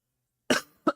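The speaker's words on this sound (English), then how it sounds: "I'm going to cough." A person coughs close to the microphone: one harsh cough after silence, then two quick shorter coughs in a row.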